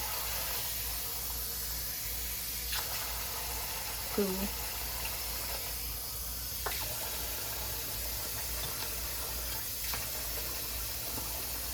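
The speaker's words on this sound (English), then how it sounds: "I'm gonna add water." Water is poured into a rice and beans dish being prepared for the oven, a soft, steady hiss of liquid running at low level, with a few small clinks and a brief spoken word.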